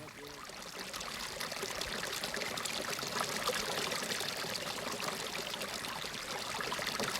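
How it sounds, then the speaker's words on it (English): The flood front of the Cooper River spreads across the outback desert near Lake Eyre in Australia, giving a continuous rushing, pouring wash of water that builds slightly and holds steady. "You can literally see and hear the flood front as it inches its way across the desert."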